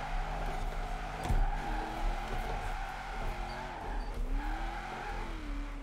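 A Mazda RX-7 in the racing game Forza Horizon 4 drifts with the e-brake held, its engine droning and wavering in pitch while the tires skid and squeal continuously, loud and steady throughout with no talking.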